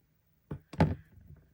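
Sharp tool points punch holes through paper laid over a rubber stamp-carving block for autumn journal ephemera, two quick muffled thunks close up, the second firmer, followed by faint rustling.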